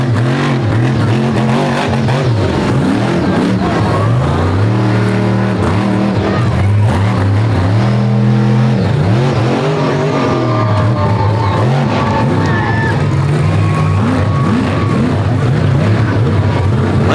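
A monster truck engine roars and revs in repeated surges during a slap wheelie at a 2023 Monster Truck Invasion show. The sound is loud and sustained, with throttle swells rising and falling.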